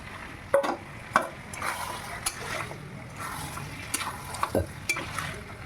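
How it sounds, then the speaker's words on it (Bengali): Duck curry with potatoes stirred in a pan, giving repeated scraping, clattering strokes over a low sizzling bed, close and moderately loud, with no one speaking. "ভালো করে আবার নেড়ে চেড়ে ভালো করে কষে ঢাকা দিয়ে"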